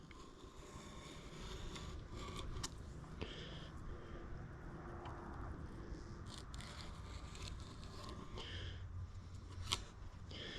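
A knife slicing down along a fresh bonito fillet at the shore, quiet intermittent scraping and cutting strokes against a soft outdoor background of wind and water.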